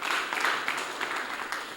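A poetry slam audience claps for a poet, a short burst of moderately loud, dense applause that tapers slightly toward the end.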